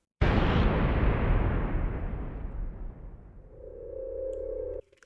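A single loud explosion hits suddenly and decays into a long rumbling tail, followed by a low humming tone that cuts off.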